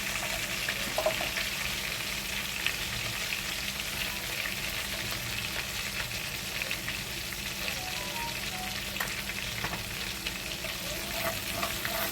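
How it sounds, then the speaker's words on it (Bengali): Pointed gourd (patol) fries in hot oil with turmeric and salt, giving a steady, soft sizzle that runs evenly throughout with occasional faint stirring clicks and no voices. "এই তেলের মধ্যে আমি পটলগুলোকে দিয়ে দিচ্ছি"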